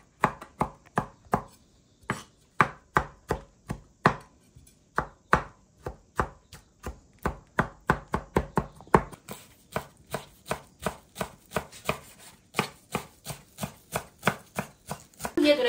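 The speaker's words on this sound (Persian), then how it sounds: "پیاز رو خورد کرد" A knife chops onion on a cutting board for Armenian lula kebab, sharp, crisp strikes that start spaced and speed up into a fast, steady run, close and clear with no talk.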